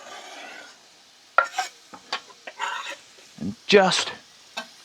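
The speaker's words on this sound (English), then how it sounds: "fry those peppers off." Peppers frying in a hot pan on a poor oven's hob, with a soft sizzle running under scattered bursts of stirring and pan scraping, close and moderately loud, while a person talks briefly.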